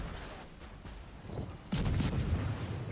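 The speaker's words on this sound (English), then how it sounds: "I'll dump off my torpedoes." Torpedoes are launched from a ship in the naval game World of Warships, a muffled thumping burst hitting hard about two-thirds in over a low rumbling battle ambience.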